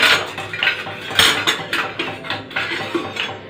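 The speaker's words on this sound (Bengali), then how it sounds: "হাতা খুন্তির আওয়াজ খালি" A ladle and spatula clank and scrape against a pot of cooking rice, irregular metallic knocks repeating through the stir, close and fairly loud, with no talk.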